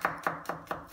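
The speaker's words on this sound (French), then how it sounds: "Maintenant, je vais hacher finement l'ail." A knife finely chopping garlic on a board, five sharp, evenly spaced taps in quick succession, close and crisp, with no voices.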